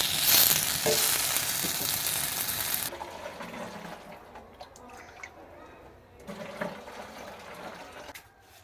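Fish frying in coconut oil, a loud hissing sizzle for the first few seconds that then drops to faint crackles and quiet kitchen sounds.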